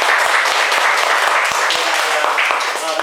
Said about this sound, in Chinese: 再掌声啊！